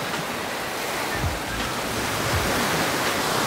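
Ocean waves wash steadily onto a beach on Miyako Island, Okinawa, a broad continuous surf hiss with a couple of soft surges, heard alone without talk.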